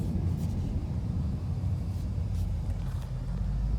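A 2021 Ford Mustang Mach 1 with a 10-speed automatic accelerates under moderate throttle, its engine a steady, full low rumble heard from inside the cabin, with no talk over it.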